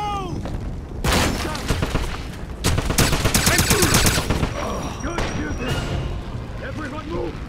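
Heavy gunfire in the Wolfenstein shooter, church level, with dense bursts of automatic fire and loud booming shots stacked into a sustained barrage, broken by short lulls, with shouted voices mixed in.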